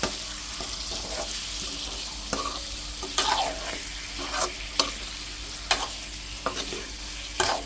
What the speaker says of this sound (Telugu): చికెన్ మంచిగా వేసి కలుపుకోవాలి